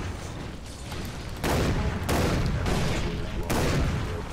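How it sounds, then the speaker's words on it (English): Gunfire in the retro-futuristic shooter Far Cry Blood Dragon, heavy bursts of automatic shots breaking out in three loud waves over a constant battle din, with someone talking in between. "Who the fuck is still shooting at me?"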